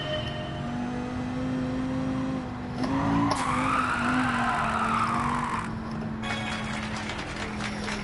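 Tires squeal and skid as a car drifts in Gran Turismo 7, a sustained screech over steady engine drone that swells midway, then settles back to a constant hum.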